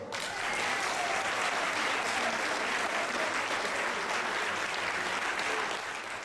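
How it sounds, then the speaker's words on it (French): Applause from an audience at a stage show, thick and sustained clapping that stays loud and even from start to finish. "Applaudissez-les."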